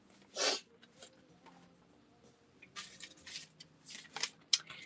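Crisp snips and rustles of scissors cutting paper up close, a loud cut early on, then a flurry of quicker snips near the end.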